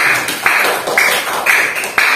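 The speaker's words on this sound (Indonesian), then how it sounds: "beri tepuk tangan kalian semua" A classroom of fifth-graders claps together in short rhythmic bursts, about five quick rounds of applause spaced evenly and fairly loud, with no talking over them.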